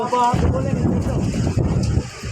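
Strong storm wind in Dhandhuka, Gujarat, with rain falling, roars and buffets the microphone in heavy low gusts, with a voice briefly audible at the start beneath the rushing air.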